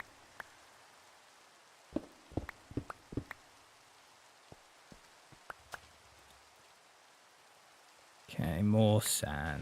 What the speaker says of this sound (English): And now it begins to rain.